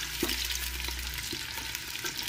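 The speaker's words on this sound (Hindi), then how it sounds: "घी गरम हो गया है, मैंने इसमें प्याज डाल दिए हैं।" Steady crackling sizzle of onions frying in hot ghee, with occasional soft stirring scrapes and no voices.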